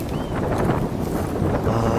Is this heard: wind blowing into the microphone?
yes